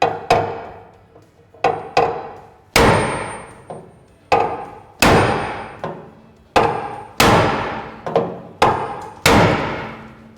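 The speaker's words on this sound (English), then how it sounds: "I like my big hammer because when it's hit, it stays hit" A big hammer striking metal on a car's undercarriage, about a dozen heavy, ringing blows in uneven pairs and singles, close and loud, each decaying before the next.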